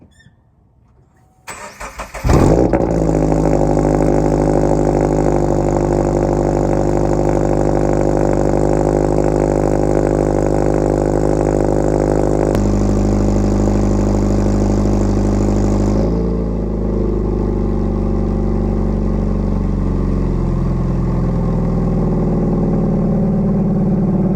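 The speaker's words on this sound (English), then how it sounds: "Let's hear a cold start from." A Subaru BRZ with an AWE Touring exhaust cranks and fires up loudly on a cold start, settling into a steady, rumbling idle through the exhaust, with the roar easing slightly after a while.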